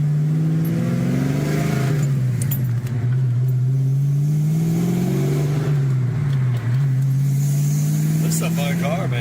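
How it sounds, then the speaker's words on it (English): A car exhaust rumbles and rises in pitch as the engine revs up and settles back, loud and close, with people talking over it. "There's no better sound than this exhaust here."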